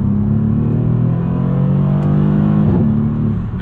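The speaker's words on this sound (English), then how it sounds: "those pops on the upshifts are pretty incredible" A Porsche 911 GTS of the 991.1 generation, driven on a road trip toward the Nurburgring, gives a loud, steady, close exhaust drone while accelerating, with a brief crackling burst near the end as it shifts up.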